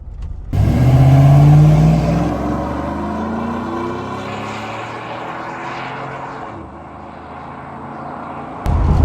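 A 2005 GMC Yukon with a Flowmaster cat-back exhaust accelerates out of a driveway, heard from inside the cab with the windows up, a loud rising engine roar that climbs in pitch, then eases off into a steady lower drone.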